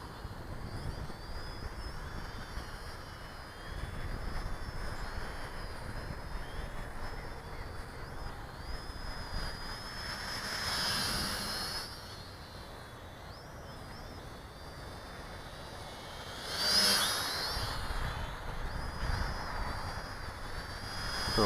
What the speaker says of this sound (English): Pretty decent. Not the speediest drone.